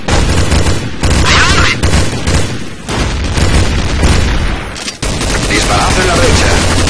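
Rapid, loud gunfire and booming explosions from a shooter video game, dense overlapping bursts with brief gaps, and voices calling out amid the shooting.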